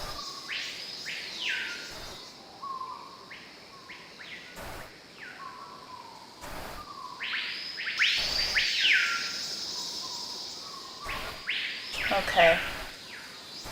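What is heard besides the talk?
bird sounds in Nancy Drew Secret of the Scarlet Hand video game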